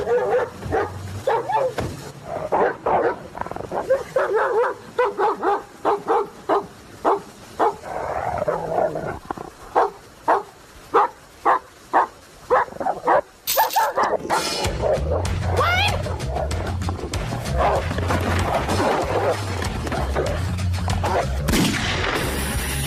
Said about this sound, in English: the dog started barking